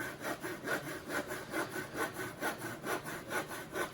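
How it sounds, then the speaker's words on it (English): Handsaw cutting across the grain of a small piece of softwood in a workshop, a steady back-and-forth rasp of about two strokes per second, close and alone. "I'm sawing away as happy as an old guy in a wood shop"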